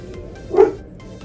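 A dog gives a single sharp bark, close and fairly loud, against a quiet indoor background during work on a wall display.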